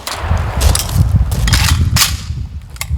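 An RPK rifle loaded with a 75-round drum fires outdoors in about four loud, separate, irregularly spaced shots, each a sharp crack over a low background rumble.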